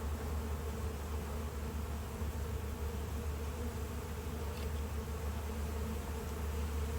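Honey bees buzz steadily and softly during a hive inspection, a faint, continuous hum with no voices over it.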